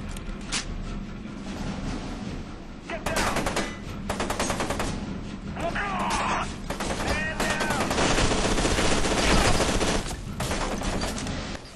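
Rapid bursts of automatic gunfire from the video game F.E.A.R. 2, loud and dense, with repeated volleys and short pauses that build into a sustained barrage near the end. A faint voice shows briefly beneath the shots.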